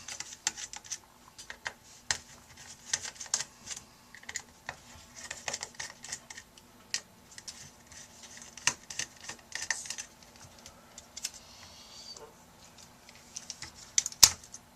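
Small screws are loosened and handled while unbolting the CPU cooling system of an HP Pavilion dv650 laptop: sparse, faint clicks and light metallic taps scattered irregularly over a quiet background.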